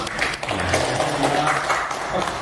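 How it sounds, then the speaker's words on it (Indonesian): An audience applauds at a joint prayer gathering attended by professional organizations, a dense, even patter of many hands clapping at moderate distance, steady throughout without a break. "Saya kira tepuk tangan untuk semangat hari ini."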